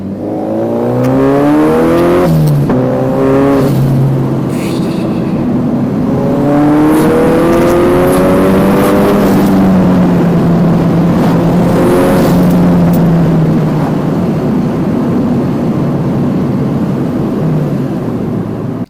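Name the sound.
turbo wastegate fluttering on boosted Mazda MX-5 NC during gear changes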